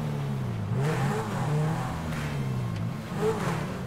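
Supercar engine revving in GTA 5: a steady, loud engine drone that rises and falls in pitch as it revs, close and alone with no talk.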